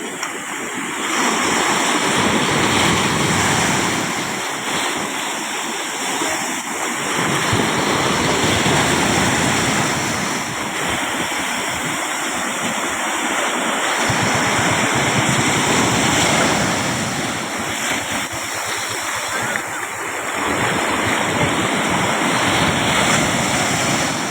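Steady rushing ocean surf with continuous wind noise, waves swelling and breaking in a broad wash of sound throughout.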